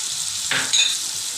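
Gobi manchurian is stirred with soy, tomato and chilli sauces in a hot pan, giving a close, continuous sizzle with a brief scraping stir in the middle.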